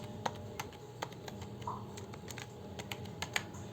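Keys tapped on a computer keyboard while filling in a Google Sheets or Excel spreadsheet, producing irregular, fairly quiet clicks spaced through the stretch with no talking.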